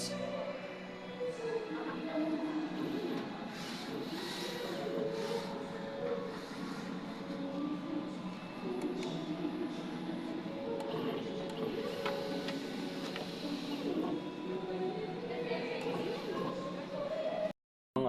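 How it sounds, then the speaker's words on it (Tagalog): Printer running a nozzle test after a head cleaning whirs and hums steadily with mechanical ticks and sliding carriage sounds for several seconds, continuous and close, stopping abruptly at the end. "Nozzle test."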